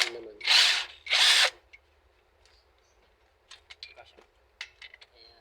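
Impact wrench loosening a bolt on the throttle body of a Toyota Innova VVT-i gasoline engine: two loud close bursts of hammering whir, followed by faint metallic clicks and taps of parts being handled.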